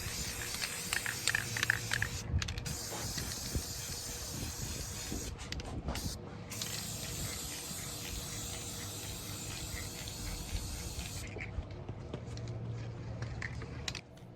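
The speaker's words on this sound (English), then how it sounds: "I decided to paint all of the hardware, including the grates," Aerosol spray paint in satin nickel hisses steadily onto metal furniture hardware and grates, a continuous close spray with brief breaks near the start and a fade at the end.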